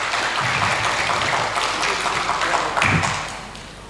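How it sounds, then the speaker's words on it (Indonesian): A seminar audience at a neuroscience and economics forum claps in a dense, steady patter, louder near the three-second mark before tapering off toward the end. "Boleh diberikan tepuk tangan."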